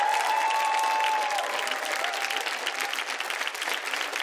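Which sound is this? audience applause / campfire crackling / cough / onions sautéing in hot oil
audience applause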